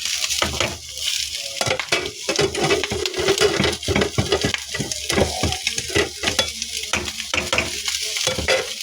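Pork liempo sisig sizzling steadily in a pan as onions and pepper are stirred in, with a continuous loud fry and repeated scraping stirs throughout.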